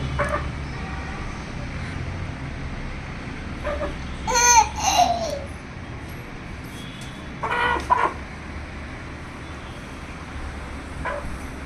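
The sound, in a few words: chicken clucking, rooster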